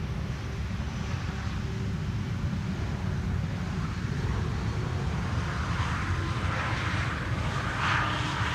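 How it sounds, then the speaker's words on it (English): A Croatia Airlines Airbus A320 arriving from Zagreb at Schiphol's Polderbaan runway 18R, its steady engine roar filling the whole stretch with wind buffeting the microphone. "For now, that is an A320 from Croatia Airlines, arriving from Zagreb."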